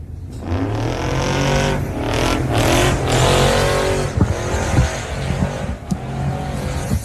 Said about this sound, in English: as Tucker roars by